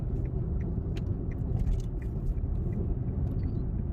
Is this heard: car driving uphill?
yes